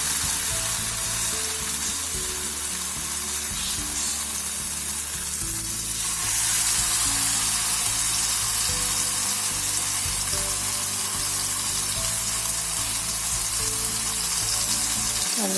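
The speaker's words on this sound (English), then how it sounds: "So now we'll put this coated banana into this oil." Coated raw banana pieces fry in a pan of hot oil, giving a loud, steady, close sizzle that carries on without a break, growing slightly fuller midway, with no talking.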